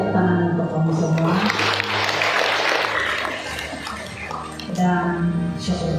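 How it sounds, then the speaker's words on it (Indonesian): Applause from an audience at a church seminar gathering in a hall, a sustained round of clapping that swells and fades, with a voice speaking before and after. "Tujuan tepuk tangan untuk kamu semua."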